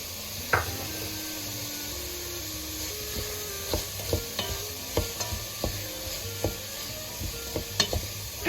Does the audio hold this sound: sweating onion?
yes